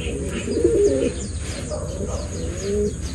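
A racing pigeon named Salpok coos softly in low, repeated phrases, with a faint background hum and light murmuring around it.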